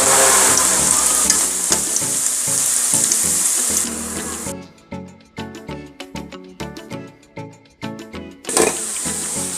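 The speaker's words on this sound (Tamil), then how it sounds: "லோ ஃப்ளேம்லேயே வச்சு பொரிச்சு எடுத்துக்கலாம்." Wheat snacks deep-frying in oil over a low flame give a steady close hiss of sizzling, broken midway by a stretch of rhythmic music before the sizzle returns.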